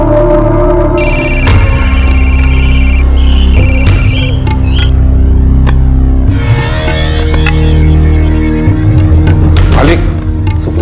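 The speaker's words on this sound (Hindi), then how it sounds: "सुखलाल जी का फोन है।" A landline telephone rings in repeated electronic bursts over a loud dramatic music score in an Indian crime drama, the ring pattern breaking off and returning before the music swells.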